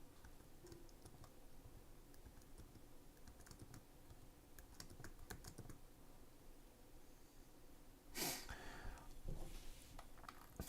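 Typing on a computer keyboard during a DSP coding session, quiet irregular key clicks in bursts with brief pauses and a louder clattering flurry near the end, no talking.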